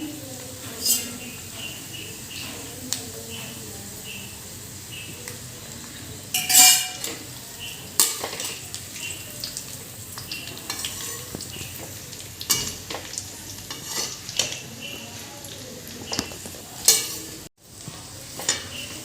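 Low, steady sizzle of onion roasting in oil in a kadai for kala masala, with frequent spoon scrapes and clinks against the pan throughout.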